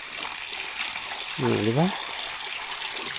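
Fresh spring water flows steadily at a farm as two people fetch it, a continuous watery rush under the clip with a short burst of talk near the middle.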